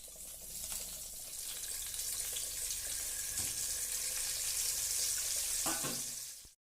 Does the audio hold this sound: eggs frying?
yes